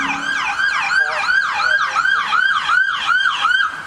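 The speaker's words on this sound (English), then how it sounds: "you just heard his sirens blaring across that intersection" A police car siren wails in a steady rising-and-falling cycle as it crosses an intersection, loud and close throughout, with no talk over it.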